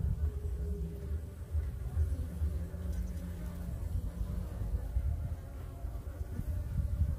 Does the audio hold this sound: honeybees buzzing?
yes